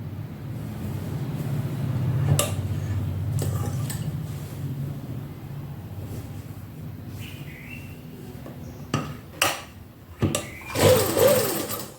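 A sewing machine stitches a kameez shoulder seam, running as a steady whirring hum for several seconds. Sharp clacks and louder bursts follow, probably as the fabric is handled and the machine stops and restarts.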